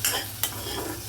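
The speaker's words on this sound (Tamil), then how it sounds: "இந்த பக்குவத்தில் நீ இதை வதக்கிங்க" Pirandai leaves being sautéed in a pan for chutney give a steady close sizzle with a brief stirring scrape partway through.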